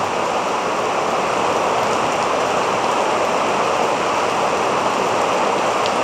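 Heavy rain pours down steadily, a dense, continuous hiss and patter filling the whole stretch without pause.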